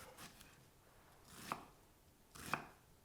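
A small knife chopping food on a board in a home kitchen, two distinct crisp cuts about a second apart with softer knife sounds before them, close and quiet.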